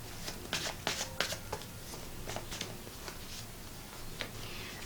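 Tarot cards being shuffled by hand at close range, a series of quiet crisp riffling bursts and soft taps over a faint background.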